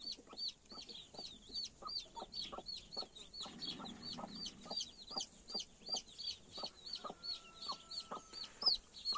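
Naked neck chicks and broody hens cluck and peep in quick repeated bursts, fairly faint and steady throughout, with no talking.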